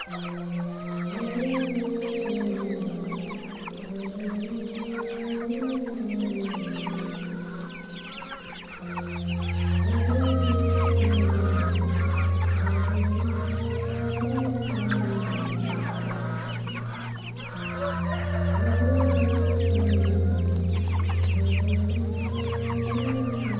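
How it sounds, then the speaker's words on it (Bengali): Small broiler chickens of about 800 to 900 grams cluck steadily in a poultry farm shed, a dense, continuous flock chorus with louder, deeper surges from roughly nine seconds onward, close and without speech. "এখানে সবগুলো ছোট ছোট মুরগি"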